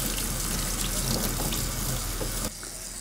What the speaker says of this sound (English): I'm going to begin by placing the water on Adam's back first